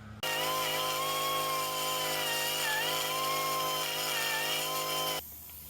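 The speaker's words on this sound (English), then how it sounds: "The Harbor Freight die grinder, not great" A Harbor Freight die grinder grinding on an engine motor mount, a loud continuous high-pitched whine with slight pitch dips under load for about five seconds, then cutting off.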